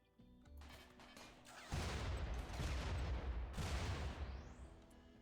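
Turret gunfire from a RimWorld battle in a Star Wars Jedi Survivors setting: a loud sustained barrage of overlapping shots and booms breaks out after a quieter opening and rolls on, dense and rumbling, with no talk.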